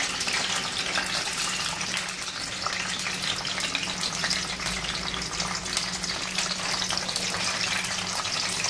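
Spices sizzle loudly in a hot kadhai for veg pulao. A dense, steady hiss of frying runs unbroken and close throughout.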